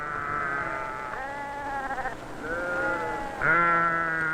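Sheep from the north bleating during wool shearing, several wavering, nasal calls in succession with short gaps, moderately close and clear, no talking.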